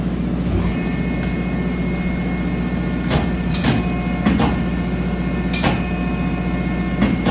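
A Scotchman 50 ton ironworker set up for punching runs with a steady low motor hum, joined by a few sharp clanks and knocks from the machine.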